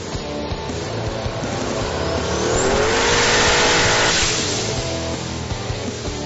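A car runs hard on a chassis dyno during a power-to-the-wheels dyno challenge, its engine note climbing to a loud, sustained peak around the middle of the pull, then easing off again, with a steady roar and no talk.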